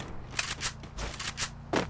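Gunfire in the mobile battle-royale game Free Fire, with several sharp bursts of shots spaced through under a steady low game hum.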